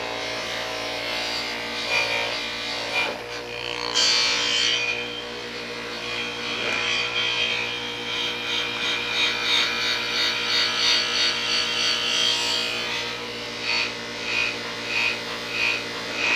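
An aluminum motorcycle wheel pressed against a coarse spinning polishing wheel, giving a loud, continuous motor whir with a rubbing, grinding texture that pulses in rhythm as the pressure shifts.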